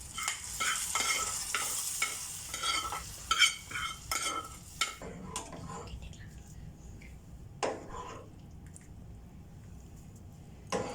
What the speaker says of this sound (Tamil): இப்போ நல்லா கிண்டி விட்டுக்கலாம்